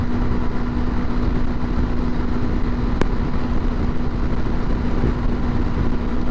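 A Honda CRF300L Rally motorcycle climbs a hill at wide open throttle around 70 mph, its engine a loud, steady drone with a constant pitch under heavy wind rush and no break.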